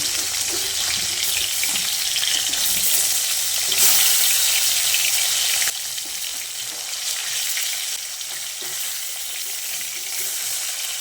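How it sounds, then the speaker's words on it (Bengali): Katla fish pieces sizzle steadily in hot oil, a continuous loud crackling hiss that eases slightly partway through, with no talking. "মাছের এক সাইড ভালোভাবে ভাজা হয়ে গেলে মাছগুলোকে এইভাবে উল্টে দিতে হবে।"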